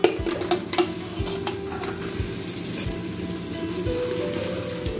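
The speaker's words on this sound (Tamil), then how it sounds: "முட்டை உடஞ்சி போயிடாமல் கிண்டிக்கோங்க." Eggs are stirred into a sizzling egg biryani masala in a pan, a steady frying crackle with occasional close scrapes and taps of the spoon, with no voices.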